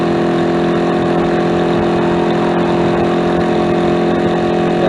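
A small motorcycle engine running loud and close, with a steady droning hum that holds evenly throughout and no talk over it.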